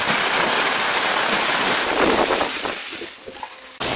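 Wind-driven rain lashes a tent in a dense, hissing roar that fills the first seconds, then eases into scattered patters before cutting off abruptly.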